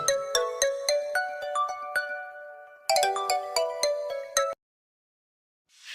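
A phone ringtone plays a bright, repeating melodic pattern twice, then stops into silence.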